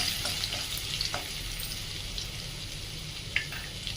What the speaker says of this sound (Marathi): मोहरी चांगली तरी शिल्लक राहिलेला थोडा लसूण त्यामध्ये टाकून घेऊया